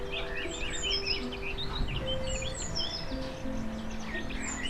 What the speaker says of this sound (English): There's this very interesting blackbird in our garden that actually repeats phrases more than a blackbird normally would and sounds more like a song thrush